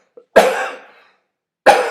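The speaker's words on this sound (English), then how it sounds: "I've been dealing with a little bit of cough." A single harsh cough up close, followed by silence and the start of another cough, no speech.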